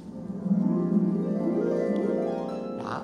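A harp plays a sweeping glissando meant to evoke rushing water, in an orchestral children's performance of The Sorcerer's Apprentice by the Munich Philharmonic; a steady, moderately loud upward run of strings rings out with no talk.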